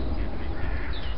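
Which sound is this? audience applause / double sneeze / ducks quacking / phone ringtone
ducks quacking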